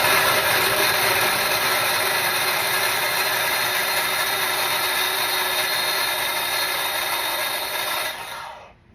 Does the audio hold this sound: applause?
no